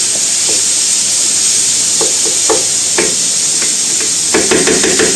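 Ground beef steak browning with onions in a pan for spaghetti bolognese, a loud continuous sizzle broken by scattered clicks and scrapes of a utensil, close up and without speech.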